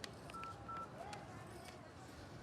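A telephone keypad gives two or three short, quiet dialing beeps in quick succession over a low background hiss.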